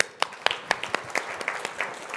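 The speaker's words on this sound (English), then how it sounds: "Round of applause." Scattered, light hand claps from a small audience at an education summit panel discussion, sparse and fairly faint with an uneven rhythm, lasting only a couple of seconds.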